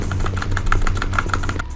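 A motorcycle engine idling in a video game, a steady throbbing putter with regular pulses, fairly loud and close, with no talk over it.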